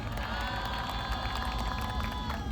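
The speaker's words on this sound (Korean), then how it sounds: "큰 박수 부탁드리겠습니다." Steady applause and crowd noise from a large street protest rally, dense and continuous throughout with no talking above it.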